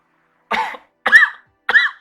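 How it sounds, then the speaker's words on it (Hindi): Three separate coughs, close and fairly loud, spaced about half a second apart with silence between them, from someone speaking Hindi during a C# WinForms point-of-sale programming tutorial. "खांसी लग गई।"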